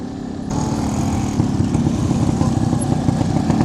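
Motorcycle engines at a bike rally in Chikkaballapur roar up suddenly, loud and close, then keep rumbling steadily.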